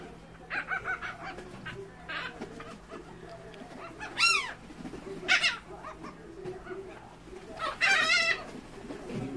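Seagulls call and squawk on a Galveston beach, several loud harsh cries rising above steady surf and breeze, with other birds clucking and cooing nearby.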